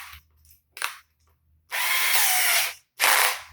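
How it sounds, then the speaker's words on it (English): A power drill drives a screw into a wooden guitar pedal board: two short whirring bursts, then a longer loaded drive and a final burst, close and loud with quiet pauses between. "So we're gonna use this drilling machine."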